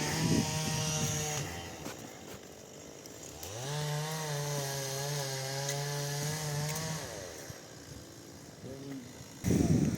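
A chainsaw cutting trees outdoors near a sanatorium in Truskavets drones at a distance, its engine revving up sharply, holding a high whine for a few seconds, then dropping back, with voices talking nearby.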